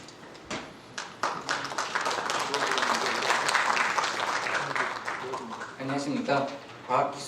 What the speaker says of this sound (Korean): 예, 다시 한번 큰 박수.